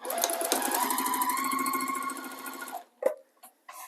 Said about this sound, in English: I'm going to try and chain piece these